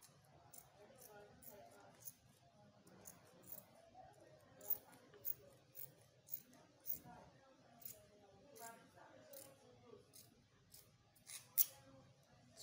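Fabric scissors cut out the front neckline of a high-low cowl kaftan, a steady run of crisp, close snips at a regular rhythm with soft rustling of cloth between them.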